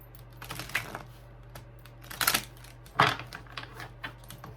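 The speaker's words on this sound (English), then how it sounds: "I'm gonna do one more shuffle" A deck of cards is shuffled up close, with several short riffling bursts separated by quieter handling and no talk.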